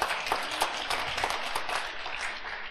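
A church congregation claps for God in steady, close, lively applause, many hands beating together without pause.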